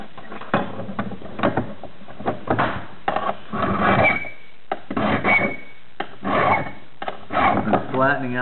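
A file works the points of steel climbing crampons, flattening and sharpening them in bursts of short rasping strokes with brief pauses between.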